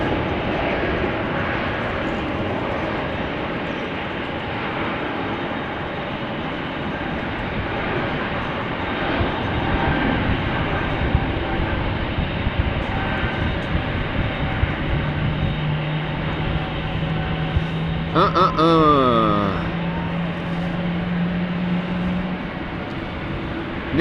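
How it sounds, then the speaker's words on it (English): Jet airliner engines whine and roar steadily at Amsterdam Schiphol Airport, a loud continuous drone with a rising tonal whine near the end, heard close with no talk. "Whiny airplanes indeed."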